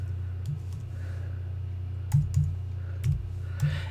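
A few sparse keystrokes on a computer keyboard while a password is entered, short soft clicks spaced unevenly over a quiet low hum.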